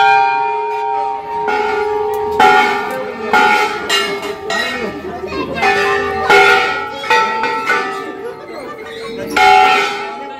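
Temple bells clang repeatedly at Golu Devta temple in Almora, several bright ringing strikes overlapping with lingering tones, close and loud amid a crowd's background murmur.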